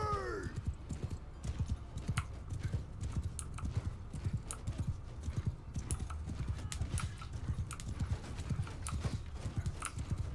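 Many cavalry horses gallop in a video game battle, a rapid clattering of hooves, loud and continuous, with a brief whinny at the start.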